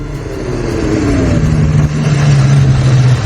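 A Benelli 750 Sei inline six-cylinder motorcycle engine revs loud and close, a smooth rising and settling mechanical drone lasting a few seconds with no voices.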